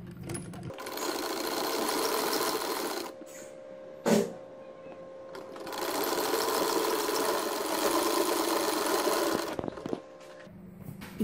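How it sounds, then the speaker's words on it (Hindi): Sewing machine stitching leftover fabric for a baby pajama, two long steady whirring runs separated by a pause with a sharp click, then a brief start at the end. "अब इसको मैं सीधी तरफ से मशीन के एक पैर का बखिया लगाऊंगी।"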